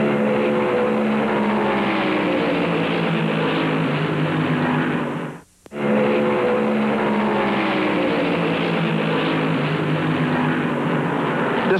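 NASCAR race cars at Darlington Raceway in the 1971 Southern 500, engines each over 600 horsepower, a loud, steady, close engine roar that cuts out for a moment in the middle and then resumes.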